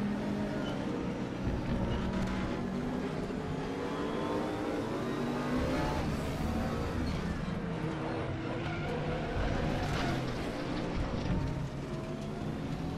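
McLaren MP4-12C GT3 race car in RaceRoom Racing Experience at the Nürburgring, its engine droning and revving steadily throughout amid a dense field of other cars.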